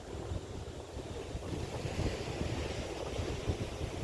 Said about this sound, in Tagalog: Wala maririnig kundi yung tunog ng alon.